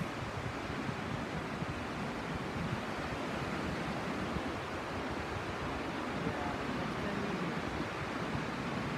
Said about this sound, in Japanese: 今波来てますね